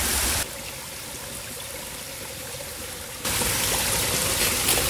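A clear forest stream flows steadily over rocks, a continuous broadband rush of water that grows slightly louder and brighter toward the end, with no voices.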